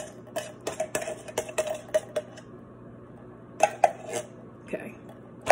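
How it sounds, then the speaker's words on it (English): A metal utensil scrapes and taps inside a can, scooping it clean while preparing a low-carb shepherd's pie, in a series of light clinks and scrapes with a brief pause in the middle. "I've got to make sure I scoop the can out clean."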